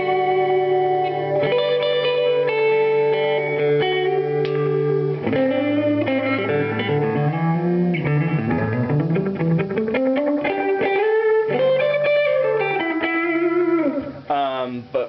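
A guitar played through a Diamond Memory Lane pedal rings out in sustained, warbling notes and chords, wrapped in modulation and a splashy spring-style reverb, loud and continuous until it trails off at the end.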